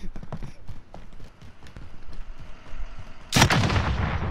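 P90 gunfire erupts in a video game as a sudden loud, sustained burst near the end, following quieter scattered thuds and in-game noise.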